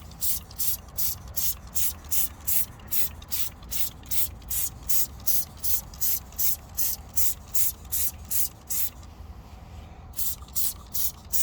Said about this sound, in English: this does have like that foaming sprayer on it